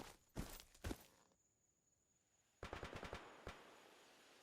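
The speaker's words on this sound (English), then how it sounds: "there's gunshots in the distance for continuity purposes" Gunfire in the S.T.A.L.K.E.R. Anomaly video game: two sharp shots, a quiet pause, then a rapid automatic burst and a final crack, fairly faint with no talking.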